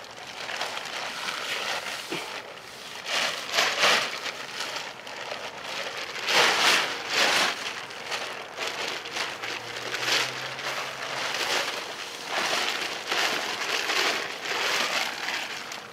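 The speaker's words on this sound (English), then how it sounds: "So now I'm going to take my tarp, roll it out" Crinkly rustling of a tarp being unrolled for a hammock shelter outdoors, a close continuous crackle with louder swells, no talking.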